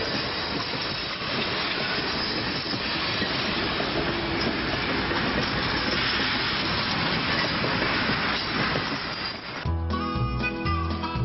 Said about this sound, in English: Here we see a northbound train passing through Mora in